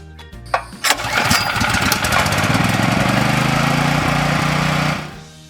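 A fuel-powered generator engine cranks with a few sharp knocks and then settles into a loud, continuous, rattling drone that runs steadily before cutting off at the end.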